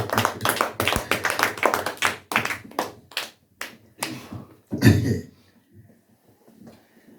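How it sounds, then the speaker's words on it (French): A church congregation claps at a worship service, a burst of quick, irregular applause that thins into scattered claps and fades out, with no talking over it. "Acclamons le Seigneur."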